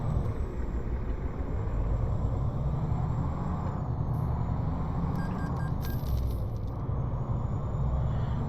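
Heavy truck in a construction-job driving video game pulling away in low gear with the clutch slipping, a steady low engine rumble with an air brake hiss partway through.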